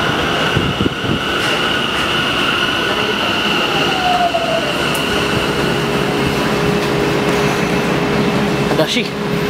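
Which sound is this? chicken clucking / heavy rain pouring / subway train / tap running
subway train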